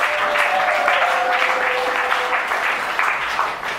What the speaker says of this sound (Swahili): Let us clap hand for our Lord Jesus.